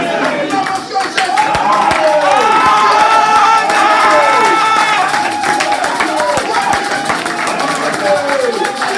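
A church congregation at a Brussels tabernacle service cheers and claps in acclaim to Jesus, a lively mix of shouts, whoops and scattered clapping close by, with voices calling out over the crowd.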